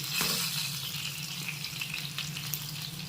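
Fish pieces fry in hot oil with a steady, dense sizzle and crackle that holds evenly throughout, close and fairly loud, with a few sharper pops.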